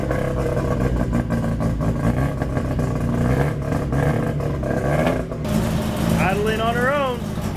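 A rotary-engined, turbocharged Mazda Miata runs rough and loud, its engine droning with a buzzy, uneven tone, while voices talk over it and a high whine sweeps up and down near the end.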